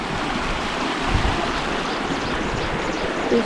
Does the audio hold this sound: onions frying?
no